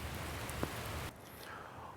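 Heavy rain pours steadily as a broadband hiss, loud and close for about a second before the sound drops abruptly to a quieter, thinner wash.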